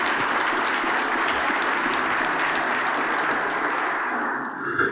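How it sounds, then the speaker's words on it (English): Indoor audience applause for Georgia governor Brian Kemp, a dense, steady clapping that stays loud for about five seconds before tapering off at the end. "he deserves a round of applause from this group as well"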